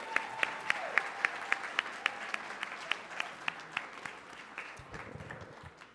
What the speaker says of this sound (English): give a round of applause to our hotel staff